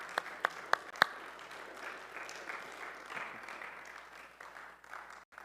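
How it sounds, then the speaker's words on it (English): A small group applauds for a couple of people at an informal evening gathering: a few sharp claps up front, then a soft, steady patter of clapping that fades out toward the end. "Could we give a little applause to Claire and Robert?"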